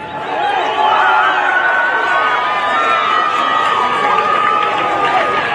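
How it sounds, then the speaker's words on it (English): Stadium crowd noise rises and holds as runners race a mile on the track, a loud continuous roar with a voice speaking over it. "The louder you cheer, the faster they run."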